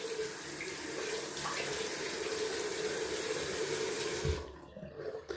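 Cold water gushes steadily from a tap onto a face during wet shaving, a broad continuous splashing that cuts off near the end, followed by a few small drips and movements.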